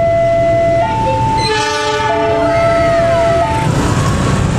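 An intercity passenger train in an Indonesian province sounds its horn as it passes close by, sustained multi-tone blasts that bend in pitch over a loud, steady rumble of wheels on rails.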